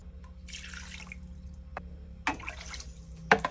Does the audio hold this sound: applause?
no